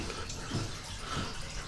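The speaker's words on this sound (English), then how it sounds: "we got water running in big time in it, but it's going right down the drain" Water pouring in heavily and draining away through a basement floor drain in an old house under renovation, a steady splashing rush at moderate level with no talk.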